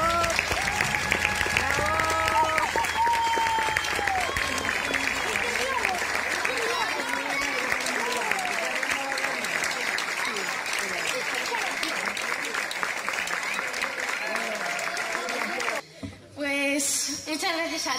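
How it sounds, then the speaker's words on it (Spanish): A group of friends applauds and cheers a champion athlete, with loud continuous clapping mixed with excited voices that cuts off abruptly near the end. "Un aplauso para ti, de todos tus amigos"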